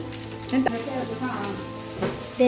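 Chicken coated in masala powder stirred in a pan, a soft sizzle with occasional scraping strokes of a spoon, and a voice speaking briefly over it in a home kitchen.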